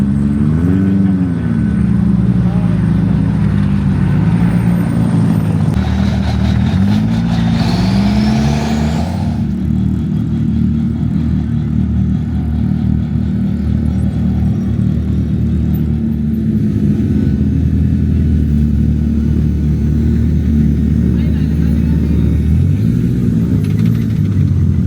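Rally trucks, side-by-sides and cars idle and rev at the Dakar pre-start, loud close engine drones with rising and falling revs and a heavy continuous rumble throughout.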